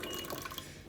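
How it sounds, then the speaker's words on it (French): Hot water pours from a water purifier dispenser, a soft, steady trickling stream, fairly faint and close, lasting under a second. "vous appuyez sur Input et là, vous avez de l'eau qui bouille."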